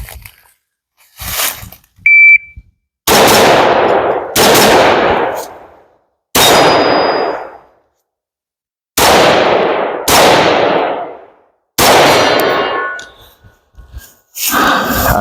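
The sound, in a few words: gunshots hitting steel targets in a shooting scenario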